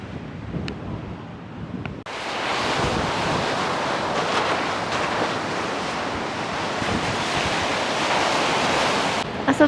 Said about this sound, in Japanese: 北海道の海に来れたぞ。